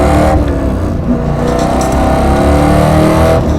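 A race car accelerates hard on a track during a lap, its engine roaring loud and close with rising revs and steady intense drone, heard from inside or near the car with no talk.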